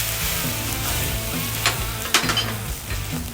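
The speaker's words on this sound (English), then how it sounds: "And then the fun part, we're gonna add our bourbon." Bourbon hitting a hot pan of butter and garlic, with a loud, continuous sizzle, a couple of sharper spitting crackles, and low rhythmic scraping underneath, no voices.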